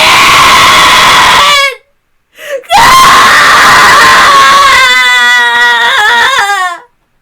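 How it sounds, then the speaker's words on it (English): A man screams in pain in the visual novel Umineko: long, loud, strained howls with a brief silent break, then a wavering, breaking cry that trails off near the end. "His scream of pain"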